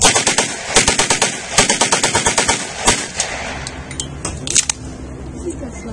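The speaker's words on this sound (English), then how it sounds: "So we're going to demonstrate the MP40 here." A WWII MP40 submachine gun fires bursts outdoors. Rapid, evenly spaced sharp shots come in two quick strings with a pause between them, followed by a single later shot and a few fainter clicks, with no speech.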